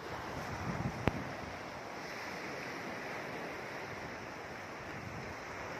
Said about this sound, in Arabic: زي ما انتم شايفين البحر اهو، شاطئ أم رخم في مطروح